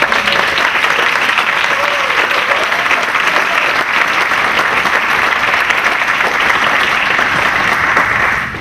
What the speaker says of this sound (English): ask them to stand and for you to give them an applause